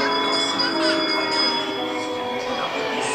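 A bell rings on a haunted mansion dark ride at Disneyland, its tones sustained and ringing steadily at moderate volume amid a dense wash of ride ambience.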